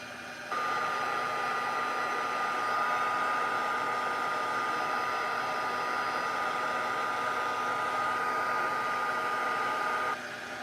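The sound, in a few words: heat tool heating a stamped paper piece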